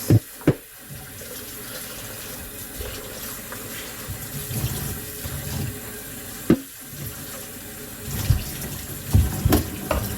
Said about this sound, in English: And now we're going to just rinse this bowl out.